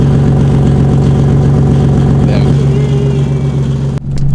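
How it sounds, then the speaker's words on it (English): A loud, rough car engine with an exhaust leak idles nearby with a raspy, pulsing exhaust rumble; a voice talks over it before the noise briefly cuts near the end. "Can you guys hear how bad my exhaust leak has gotten?"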